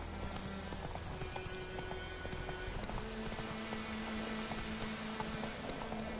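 Roach the horse galloping in The Witcher 3, a rapid steady clip-clop of hooves running over a continuous outdoor ambience with faint music, no talk.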